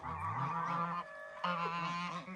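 Several geese at a goose farm honk loudly and close by, overlapping calls in a noisy, continuous stretch with a brief lull in the middle.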